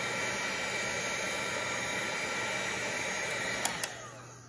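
A heat gun blows steadily while shrinking heat shrink tubing onto wire, a constant airy whine near the mic with two small clicks near the end, no voices.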